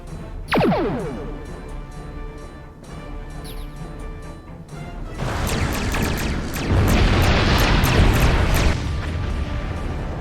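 Starship weapons fire and explosions in Star Trek Online: a sweeping energy shot early on, then a long, loud stretch of dense crashing blasts and rumble that builds toward the end.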